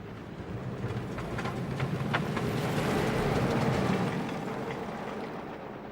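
Roller coaster train running continuously on track in the Planet Coaster theme park game, a steady rumbling roar that swells and fades over a few seconds with faint clatter on top, no voices.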